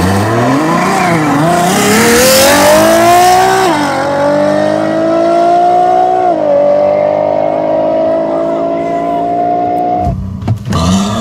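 A Kia EV6 GT and a 700 hp Ferrari FF launch side by side in a drag race. A loud, rising engine roar climbs through the gears with shifts, then cuts off abruptly near the end.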